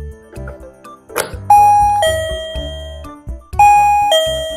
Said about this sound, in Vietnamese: Khi chúng ta cắm loa chuông vào ổ điện thì loa chuông sẽ phát ra tiếng kêu